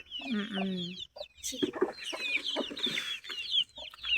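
Several Nepali chickens cluck and chatter nearby, a busy mix of short clucks and higher squawking calls overlapping one another.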